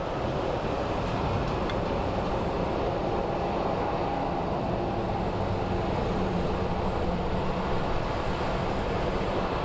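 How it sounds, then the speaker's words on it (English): The SkyTrain people mover at Phoenix Sky Harbor Airport produces a steady, broad rushing hum of rail travel, even and unbroken for the whole stretch, heard from a fair distance with wind-like noise and no voices. "That is our SkyTrain."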